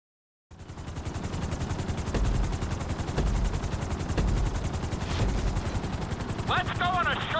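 A helicopter in the video game GTA 5 thrums steadily and loudly, its dense rotor chop constant from start to end with a brief higher whine near the close.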